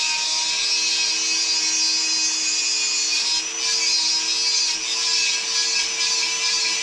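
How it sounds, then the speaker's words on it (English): A small rotary grinding bit grinds off screw heads on a backhoe flange, a loud steady high-pitched whirring buzz with gritty rasping that dips briefly twice but runs continuously throughout. "I'm just going to use this little grinding bit and see if we can just grind the heads of those screws off"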